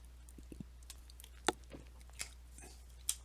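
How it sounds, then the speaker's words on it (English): Someone drinking Gatorade close to the mic, with soft swallowing and mouth sounds, sharp wet clicks and a few louder gulps spaced irregularly over a low steady hum. "I do apologize if you hear a lot of the gulping and all that."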